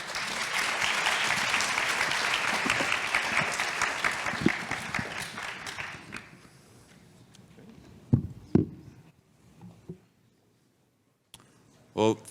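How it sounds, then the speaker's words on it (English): A large forum audience applauds panelists at a conference session, loud sustained clapping for about six seconds that fades out, followed by a few scattered footsteps and knocks with brief voices at the end. "please give a round of applause to our panelists"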